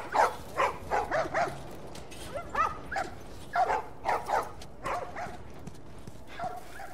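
Dogs bark in a video game, The Last of Us Part II: a string of sharp, fairly close barks and yips in quick bursts, with whimpers and pauses between them over a low background.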